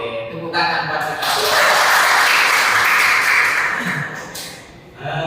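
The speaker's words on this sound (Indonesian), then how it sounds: "Oke, tepuk tangan buat kita." Students in a classroom session break into a burst of clapping that swells loudly in the middle and fades, with voices heard before and after.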